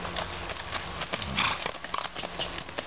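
A tricolor buckskin trail horse walks with soft, irregular hoof clops, close by and mixed with rustling and faint background noise outdoors.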